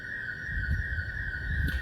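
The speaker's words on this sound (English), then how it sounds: "So with this alarm that's going on in the background" Steady high electronic alarm tone sounds continuously in the background, a constant beep-like note held throughout, moderately faint under low room noise.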